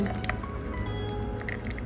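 Blended vanilla cake batter is poured into a container in a steady, thick, squishy pour close to the microphone, with faint clinks and no voices.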